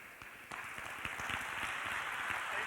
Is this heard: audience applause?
yes